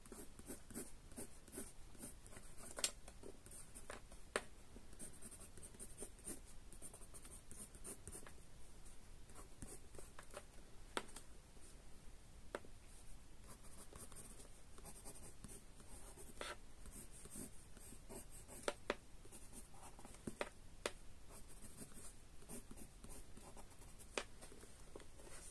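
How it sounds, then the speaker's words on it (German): Pencil and colored pencil scratches and scribbles on paper, quiet and close, with steady strokes and occasional sharper taps, no talking. "lauschet den Geräusch des Bleistiftes, Buntstiftes auf Papier."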